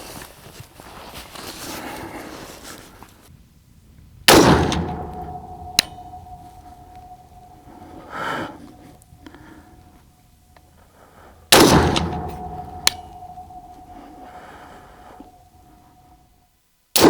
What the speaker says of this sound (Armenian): Հիմա կրակելու եմ HBBT պատրոնելով Cellar Bellot-ի։